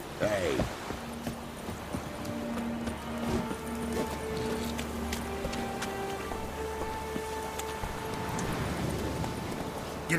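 A horse clip-clops at a gallop through The Witcher 3 video game, with steady hoofbeats close up under game ambience and musical tones. Someone speaks briefly over it.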